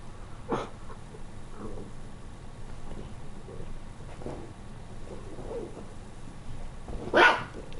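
Three dogs bark in scattered single woofs and short bursts at uneven intervals, some fairly distant, with a sharper, louder yelp near the end over a low background hum.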